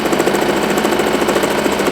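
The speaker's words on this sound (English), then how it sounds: "now we are just going to proceed to sew in a straight line" A Singer Promise sewing machine runs continuously while sewing a straight line, a loud, close, steady mechanical whir with a fast rhythmic chatter and no pauses or voices.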